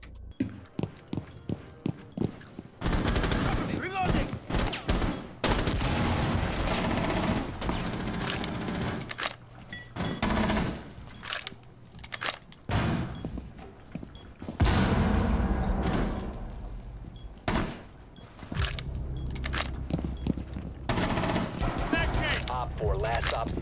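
Gunfight in the game Rainbow Six Siege: rapid bursts of automatic gunfire and single shots crack repeatedly between short pauses, with footsteps, thuds and intermittent voices.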